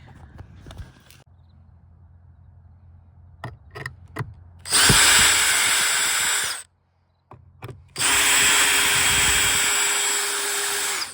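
Power drill driving screws into wood while building a camper door for a DIY camper trailer: a few faint taps and short clicks, then two loud sustained drill whines, each about two seconds long, separated by a short pause.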